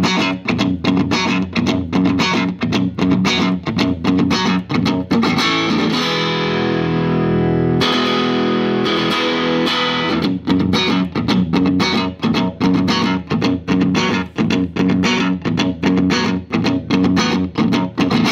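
A 1956 Silvertone 1303 electric guitar on its neck lipstick pickup, played through a Fender Deluxe Reverb amp with a little reverb, rings out in loud, bright strummed chords and riffs, with one long sustained chord partway through.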